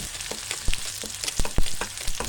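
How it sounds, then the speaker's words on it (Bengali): Chopped onions fry in oil in a wok after a bay leaf, producing a close, steady sizzle punctuated by several sharp spatula scrapes and stirring knocks. "এখন আমি এক কাপ পরিমাণ পেঁয়াজ দিয়েছি এটারে হালকা করে ভেজে নেব"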